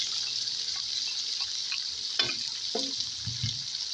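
Chopped onion fries in a pot with whole spices and white cumin, giving a steady bright sizzle throughout, while a few close scraping stirs clatter in toward the end.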